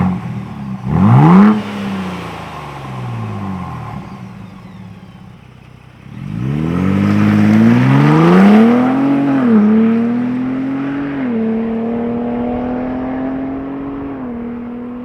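Ford Bronco Raptor exhaust in its loudest Baja mode, heard close: a quick sharp blip, a brief lull, then a long loud rev that climbs, holds with gear-like steps and slowly eases into a sustained growl.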